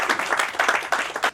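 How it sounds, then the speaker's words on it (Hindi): An audience at an evening awards ceremony claps loudly and steadily in a dense, continuous burst of applause. "तो उनके लिए एक तालियां हो जाए वहाँ पे"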